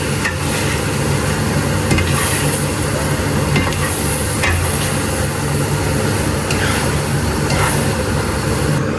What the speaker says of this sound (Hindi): और फिर अच्छे से आप इनको हिला लें। ताकि जितना भी जो शीरा है वो अच्छे से मिक्स हो जाए इसके अंदर।